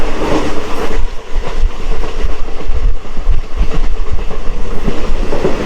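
A DEMU special train runs steadily toward Changrabandha, a continuous loud rumble of wheels and carriage noise with faint rhythmic clatter over the rails, heard from on board with no voices.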